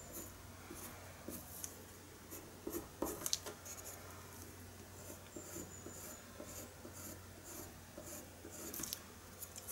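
A colored pencil is pressed hard against paper while drawing, giving a faint, continuous scratchy scraping with small irregular bursts of stroking, close and quiet.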